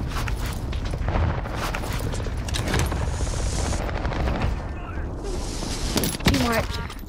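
Dense, rapid video game gunfire with heavy booming impacts and bursts running almost continuously, loud and close, while players talk over the shooting.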